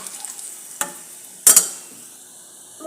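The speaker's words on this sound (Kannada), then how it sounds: "ನೋಡಿ ಫ್ರೆಂಡ್ಸ್, ಈ ಥರ ನಾವು ಫ್ರೈ ಮಾಡ್ಕೋಬೇಕಾಗುತ್ತೆ." Buttermilk-soaked chillies fry in hot oil with a steady low hiss, punctuated by a couple of sharp clacks and a loud crackling burst as they are stirred in the pan.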